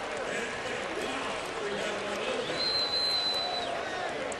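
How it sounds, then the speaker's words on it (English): A drag racing crowd cheers across the stands, a steady, broad roar of many voices with a faint rise near the end, loud and continuous throughout. "The crowd loved that."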